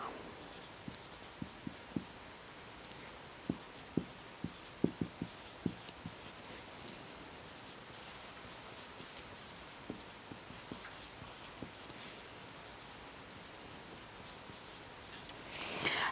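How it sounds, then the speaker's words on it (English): Pen or pencil scratching on paper while linear programming equations are written out, a quiet run of soft strokes and taps spread across the stretch with no talk. "we are going to write the equations."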